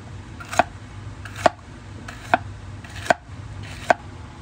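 Knife slicing three kinds of bell pepper (capsicum) into long thin strips on a board, with five crisp, evenly spaced chops close up and a faint background hum between them.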